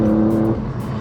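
A track-prepared race car running about -3.5 degrees of front camber, its engine loud and close with a steady tonal drone that drops off halfway through into a rougher, fading roar.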